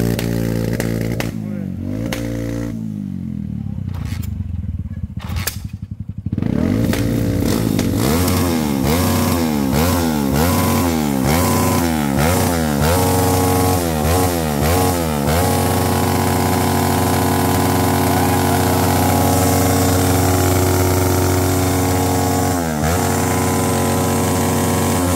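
A small Pop motorcycle engine sputters to life, then revs up and down in repeated bursts before settling into a steady, loud idle, with voices talking nearby.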